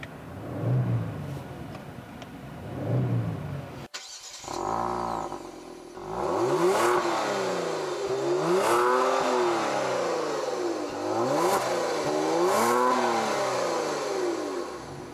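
A Genesis G70's 3.3-liter twin-turbo V6 cranks and fires, then settles into a steady idle punctuated by several sharp revs that rise and fall, close by and alone after a short burst of talk-free rumble.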